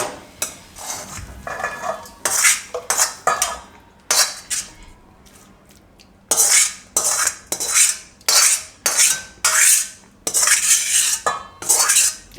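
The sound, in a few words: transferring stuffing into another vessel, utensils clattering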